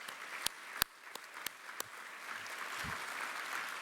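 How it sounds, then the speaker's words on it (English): Scattered claps open a round of applause for an honoree at an environmental excellence awards celebration, building into a soft, steady patter of an audience clapping at a distance. "Let's give Brent a big round of applause"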